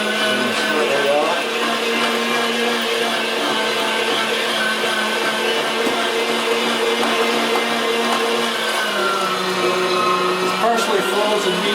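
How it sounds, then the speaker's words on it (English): A Kitchener meat grinder churns through partially frozen venison with a continuous motor whine and grinding, and talking runs over it the whole time. "So I have my handy dandy Kitchener grinder here."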